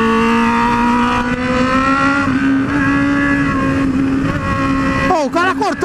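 A Honda Hornet motorcycle engine screams loudly at high revs while overtaking, its pitch rising steadily, then stuttering through rapid gear shifts near the end, with someone talking over it.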